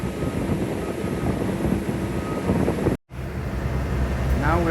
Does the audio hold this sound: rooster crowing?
no